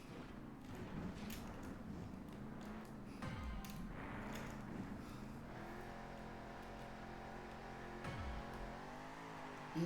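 A monster truck engine revs steadily in the Monster Jam Steel Titans video game during a freestyle run at Oakland, a continuous droning roar with rising and falling pitch sweeps and no talk.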